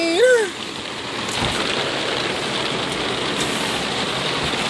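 Steady rain patters on surfaces outdoors by a mobile home, a dense even hiss throughout, with a brief voice-like sound at the start.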